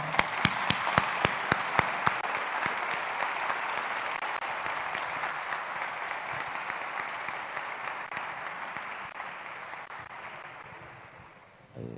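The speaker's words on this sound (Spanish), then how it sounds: "Un aplauso." Audience applause after a talk at a game development conference session, opening with a few sharp individual claps before swelling into a sustained, moderately distant crowd ovation that fades out at the close.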